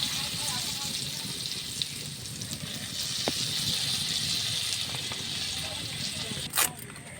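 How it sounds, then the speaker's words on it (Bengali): Dried red chillies and five-spice seeds sizzle in hot oil for a village-style Bengali hog plum chutney, a steady close crackling hiss with occasional louder pops. "এবার তেলে ফোড়নের জন্য দিয়ে দেবো শুকনো লঙ্কা, 5 ফোড়ন।"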